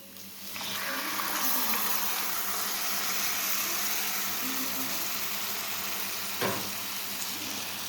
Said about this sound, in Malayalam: ഇനി അരിഞ്ഞ് വെച്ചിരിക്കുന്ന സ്ട്രോബെറി ഇതിലോട്ട് തട്ടി കൊടുക്കുക.